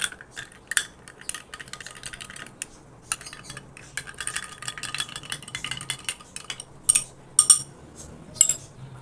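A spoon stirs soaked basil seeds (tukh malanga) into a glass of tamarind and plum sherbet, giving a run of close, bright metallic clinks and scrapes in irregular bursts, with louder taps near the end.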